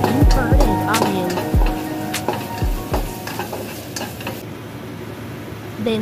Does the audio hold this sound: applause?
no